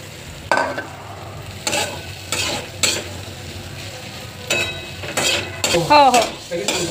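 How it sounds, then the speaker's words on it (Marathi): Poha is stirred in a frying pan with a metal spoon, its light sizzle running underneath while a few sharp scrapes and taps of the spoon against the pan come in uneven bursts, close and fairly loud. "चांगल्या प्रकारे पोहे हलवून घ्यायचे"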